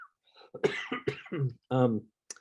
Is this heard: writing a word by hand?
no